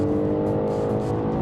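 A naturally aspirated Audi RS5 4.2-litre V8 holds a steady, close, fairly loud engine note with a smooth tonal hum, running alone without talk for a brief moment.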